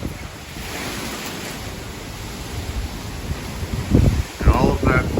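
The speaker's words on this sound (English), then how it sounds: "Got a little wind." Hurricane wind gusting outside a house in Cape Coral, a broad rushing roar that swells and buffets the microphone, growing louder and rougher near the end.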